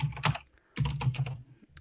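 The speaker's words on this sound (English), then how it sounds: "Somebody typing? Yeah, that's me." Two close bursts of clattering keystrokes on a Corsair RGB computer keyboard, separated by a short pause, loud and crisp with no voices.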